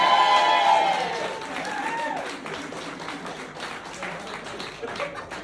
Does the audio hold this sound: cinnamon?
no